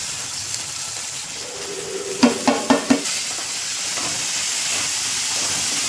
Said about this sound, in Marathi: आता लसूण घालून घेऊया, बारीक चिरलेला टोमॅटो